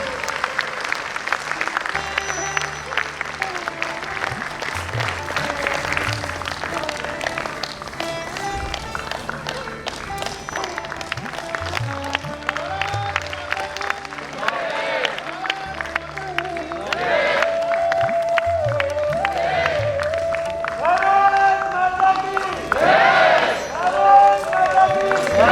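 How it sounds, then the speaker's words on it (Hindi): An audience at a medical conference launch event claps steadily for about twenty-five seconds, with music playing underneath and the applause swelling louder near the end. "तालियों की गड़गड़ाहट में कोई कमी नहीं होनी चाहिए"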